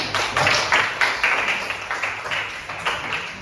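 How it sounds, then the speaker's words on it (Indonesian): A classroom group of students clapping together in a quick burst, sharp claps pulsing unevenly over a few seconds, fairly close and bright with a faint high hum behind. "Kasih tepuk tangan semua."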